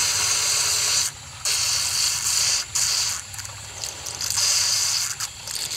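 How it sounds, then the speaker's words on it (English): A hose pours a steady hissing, splashing stream of water into a garden pond, the spray briefly breaking off several times and then resuming. "a lot of people would probably have a fit when they see me filling up the pond"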